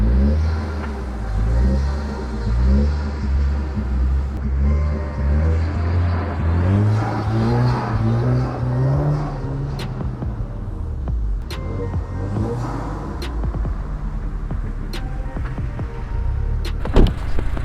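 A MK6 Volkswagen Golf R with 100k miles drives and drifts on a patch of snow, its engine revving up and down in rising and falling sweeps, loud and close, with occasional sharp clicks.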